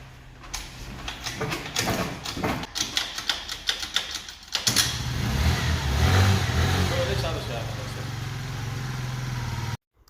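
A small scooter engine sputters through a few kick-start attempts, then catches and revs steadily and loudly before cutting off abruptly.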